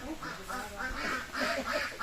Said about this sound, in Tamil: வேன் கத்துது அந்த வாத்து இந்த சின்ன வாத்து